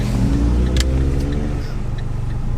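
An Abarth 500 engine pulls away with a low, steady drone and layered rising harmonics, heard from close range with no talk.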